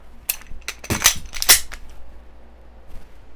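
Dry fire practice with an empty handgun: a handful of sharp clicks and snaps close up, the loudest two near the middle, with quiet room noise between.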